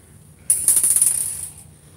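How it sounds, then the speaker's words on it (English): Stepper motor inside the casing of a Geeetech A10M 3D printer whirs and ticks in a rapid mechanical ratchet-like burst with a high whine, lasting about a second, close and fairly loud. "the stepper motor is inside the casing on this printer"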